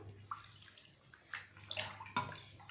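A muslin cloth soaked in a bowl of water, with soft sloshing, dripping and splashing in scattered bursts, close and fairly quiet, with no talking.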